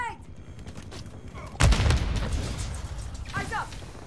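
A grenade detonates in a Call of Duty Modern Warfare II match with a loud, heavy boom that rolls off slowly, surrounded by scattered gunfire and a player's voice.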